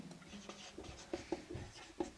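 Pen or chalk strokes from note-writing during a Hindi-language lesson on the Constituent Assembly, a few short scratchy marks in quick succession, quiet and close.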